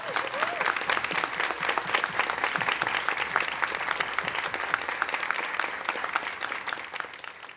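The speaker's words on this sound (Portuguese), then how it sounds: "Queria pedir aqui uma salva de palmas" A crowd claps steadily for a speaker at a business talk event, dense applause lasting throughout, fairly close and even, fading slightly near the end.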